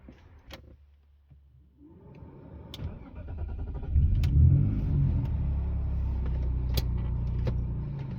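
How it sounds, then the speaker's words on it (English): A BMW engine cranks and catches, then settles into a steady running rumble as the car is moved, with a few clicks and knocks over the idle, close and fairly loud. "Let's first move the BMW out of the way and clean a little bit"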